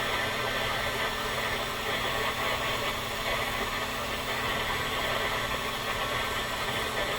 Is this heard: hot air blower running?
yes